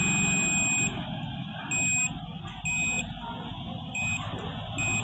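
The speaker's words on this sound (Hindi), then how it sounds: "बजर की बीप आ रही है इसके" A buzzer on a shorted induction heater under repair beeps in five repeated short bursts of about a second each, evenly spaced over a steady background hum.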